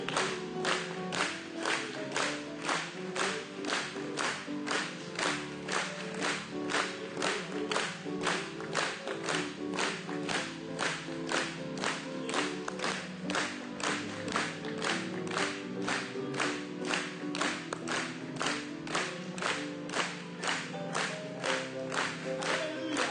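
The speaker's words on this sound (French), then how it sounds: "Acclamons pour lui encore une fois" A large church audience at a sermon by a preacher applauds and cheers steadily, with dense rhythmic clapping that keeps an even pulse for the whole stretch and no voices standing out.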